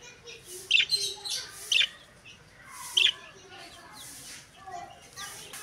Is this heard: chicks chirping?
yes